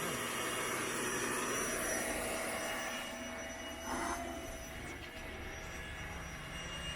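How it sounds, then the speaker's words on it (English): A vacuum cleaner runs at a campsite in Algonquin Provincial Park with a steady, loud whooshing drone that eases slightly partway through and then holds at a constant level. "Luckily we have the vacuum."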